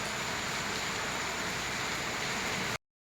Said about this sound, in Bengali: আর ওদিকে সুন্দর বৃষ্টি হচ্ছে।